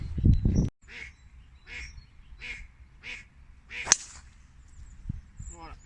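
A duck on a golf course quacks in a steady series of five or six evenly spaced, nasal calls at moderate distance, following a short burst of handling noise and a sharp crack, with outdoor background hum.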